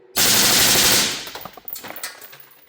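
Automatic rifle fire through a Huxwrks Ventum 556 suppressor: a loud, dense full-auto burst close by, lasting about a second before decaying into echoing reverberation and a few trailing rattles outdoors.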